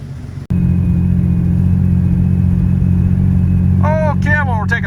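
A 2000 Ford Ranger engine runs at a steady idle-like drone with a slight misfire, loud and close after a sharp click, with a brief high squeal near the end.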